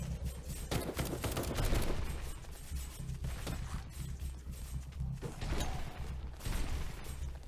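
Gunfire in the zombie survival video game Night of the Dead: a dense, continuous clatter of shots and mechanical noise, steady and fairly loud throughout, with overlapping bursts and no clear pauses.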